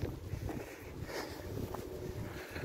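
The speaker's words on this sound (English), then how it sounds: "It's ice cold, windy." Steady wind buffeting the microphone outdoors in ice-cold weather at Harborough Rocks, a constant low rumble and rush with no pauses, fairly loud throughout.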